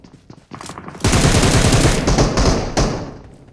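Automatic gunfire from PUBG erupts in a loud, rapid, close burst after a few lighter shots, rattling continuously for about two seconds before tapering off.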